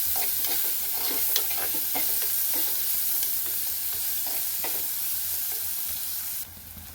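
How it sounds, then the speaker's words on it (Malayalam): Sliced onions sauté in a little coconut oil, giving a steady close sizzle with intermittent scraping clicks of a spoon stirring the pan, no voices, and the frying cuts off abruptly near the end. "അത് കോരി മാറ്റിയിട്ട് ഞാൻ സവാളയിട്ട് വഴറ്റുകയാണ്"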